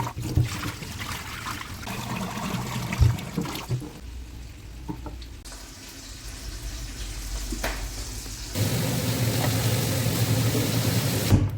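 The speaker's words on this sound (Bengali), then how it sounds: "চালগুলো ধোয়া দিয়েছি, আর একবার ধোবো।" Rice is rinsed by hand in a pot of water in a village kitchen, with close, uneven swishing, trickling and splashing that shift in loudness from one moment to the next.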